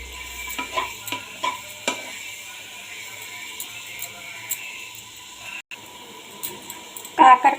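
Bitter gourd fries in a pan with a soft sizzle while a spatula stirs it in irregular taps and scrapes, fairly close, ending in a louder burst.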